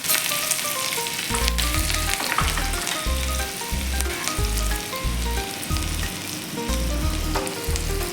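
Green chili and asafoetida tempering sizzling in hot oil for a cucumber salad, a loud continuous crackling fry with bursts of spattering and occasional low knocks from the pan, no voices.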